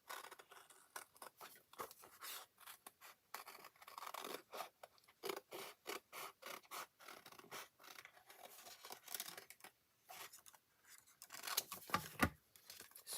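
Scissors trim paper for a handmade card envelope, a quiet run of short crisp snips and scraping cuts repeated over several seconds, close by with no talking.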